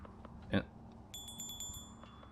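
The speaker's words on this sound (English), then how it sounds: "it's a little bell that actually rings when you pick it up" A small bell in the FAR video game rings as it is picked up, a quick run of faint, bright tinkling pings after a soft thump over quiet background ambience.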